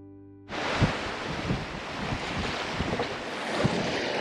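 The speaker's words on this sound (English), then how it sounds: "The afternoon winds have settled in and we're well south of the point, so it's funneling everything." Afternoon wind and waves aboard a sailboat on the Pacific, a loud, steady roar of wind buffeting the microphone with water washing and thumping against the hull, starting abruptly after a brief quiet hum.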